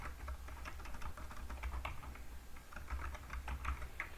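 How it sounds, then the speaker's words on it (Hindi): Someone types a surname on a computer keyboard while entering a name in Microsoft Word, with quiet, close, irregular clicks of keystrokes in small clusters and no talk. "ठीक है, इसमें लिखेंगे कटियार"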